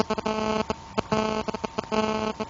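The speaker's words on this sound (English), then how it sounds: "I'm hearing the bloody phone interruption buzzing noise" Mobile-phone interference buzzes through the line in rapid, rhythmic pulsing bursts, a harsh electronic stutter that starts and stops in clusters, loud and alone with no talk.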